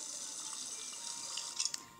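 Water rinsing in the My Om Nom tablet game gives a brief, soft splashing wash with a few light drip-like accents near the end, faint and alone without talk.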